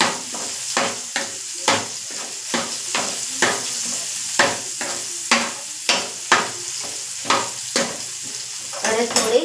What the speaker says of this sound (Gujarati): હવે આ સ્ટેજ પર આપણે બે સૂકા લાલ મરચાં ઉમેરીશું આમાં